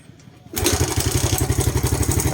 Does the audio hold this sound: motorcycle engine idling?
yes